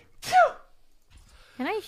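A close, voiced human sneeze sounds near the start, and a short spoken utterance follows after a brief pause.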